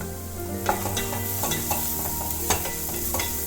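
Turmeric powder stirred into sautéed onions frying in a pan for Kerala-style kadachakka mappas, with a steady sizzle under a handful of scraping stirring strokes, close and moderately loud, no talking.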